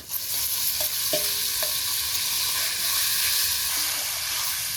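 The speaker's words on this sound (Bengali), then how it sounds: "নেড়ে চেড়ে মিশিয়ে দিলাম।" Marinated mutton frying in a pan with onions fried until reddish, a steady loud sizzle with scraping stirring strokes throughout.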